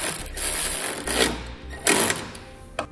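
A 3/16 Allen bit on a power driver snugs down a tailgate assist bolt on a pickup truck, giving short bursts of close, whirring mechanical rattle with brief pauses between them.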